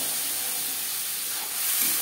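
Onion and tomato paste hitting hot oil in a kadai for a tilapia fish curry, giving a steady, loud hissing sizzle that holds evenly throughout with no talk.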